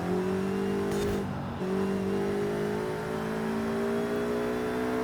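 An A-class car in the video game Forza Horizon 5 holds a steady, droning engine note through a corner, a brief dip in pitch breaking the sustained hum before it picks back up.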